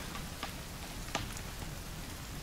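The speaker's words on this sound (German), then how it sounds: "Es regnet." Steady rain patters across a surface in the survival game The Forest, a dense continuous hiss with a few brief louder drops, heard alone without voices.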